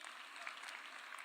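Applause from an audience at President Ruto's Nyota Business Start-Up Capital disbursement event, greeting Engineer Romanya, a public works PS from West Pokot; a steady, dense wash of clapping hands with no pauses.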